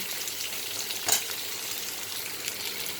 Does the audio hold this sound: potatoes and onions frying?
yes